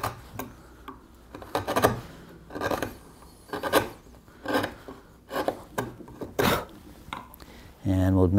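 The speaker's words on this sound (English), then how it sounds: "I'm going to angle my chisel up a little bit more" Close, short scraping strokes of a wood chisel paring the surfaces of a dovetail joint, about a dozen crisp cuts in an uneven rhythm, then a brief burst of speech at the end.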